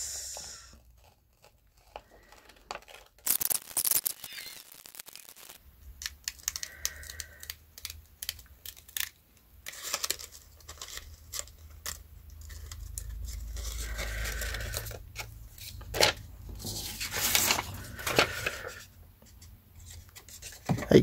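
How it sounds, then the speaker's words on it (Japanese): Scissors cut a paper sewing pattern for a summer face mask, snipping and rustling up close in short bursts with pauses between them, alone with no talk. "今から切ってきます。"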